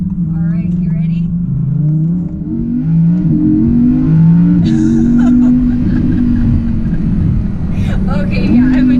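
A 2020 Audi R8 accelerates hard, its engine note climbing through several rising sweeps with quick shift drops between them, loud and close throughout.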